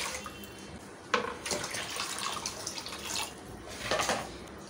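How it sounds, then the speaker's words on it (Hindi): Water poured from a glass into a pot of dal being cooked for Bohra-style dal chawal palida, a steady close-up splashing and trickling stream with a few louder gushes as more is added, no voices. "मैं 4 ग्लास के करीब मैं पानी डाल दूंगी इसमें"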